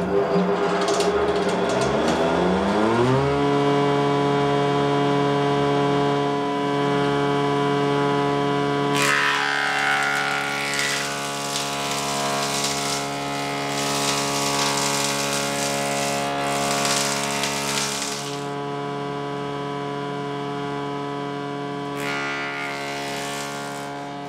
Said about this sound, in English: Right, got a nice pile of posts milled up. Gonna run them through the planer.